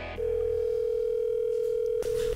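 A steady telephone dial tone hums alone at an even, clear level, with a tiny break near the end, as a phone line is picked up before a call.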